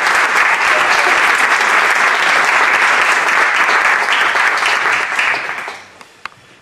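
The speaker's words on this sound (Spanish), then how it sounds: "pero por supuesto con este aplauso de todos." An audience at a talk with a high jumper claps in a loud, dense, sustained burst that tapers off near the end, leaving a quiet tail with one sharp knock.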